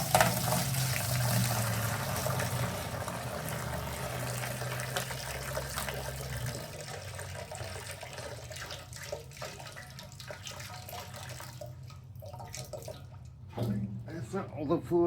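Tank cleaning fluid pours from a 1967 BMW Neue Klasse fuel tank into a container, a continuous liquid splash and trickle that runs loud for most of the stretch, thins out, then briefly returns near the end.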